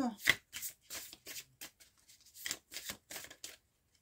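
A deck of tarot cards is cut and handled close up. Crisp riffling and snapping card sounds come in short bursts separated by brief pauses, then stop.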